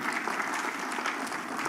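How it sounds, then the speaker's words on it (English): An audience applauds steadily at a teaching and learning centre launch, dense even clapping filling the room for the whole moment with no voices over it. "let's give our chief guest a round of applause"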